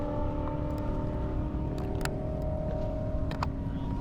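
A drag race car engine at an airstrip event runs with a steady, droning tone, holding a constant pitch throughout, with faint clicks and knocks over it and no talking.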